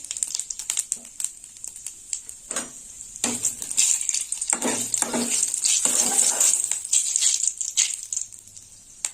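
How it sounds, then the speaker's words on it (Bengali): Dried red chillies and cumin seeds frying in hot oil, a close crackling sizzle with bursts of spattering and occasional utensil clinks, no voices. "ফোড়নটা একটু ভাজা হোক"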